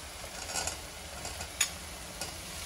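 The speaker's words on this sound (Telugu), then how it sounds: "ఈ స్టేజ్లో మనము ఫ్రై చేసి పెట్టుకున్న ఈ మీల్ మేకర్ దీంట్లో వేసాం" Fried soya chunks (meal maker) sizzle quietly in oil in a pan with a faint steady crackle, plus a couple of soft stirring scrapes.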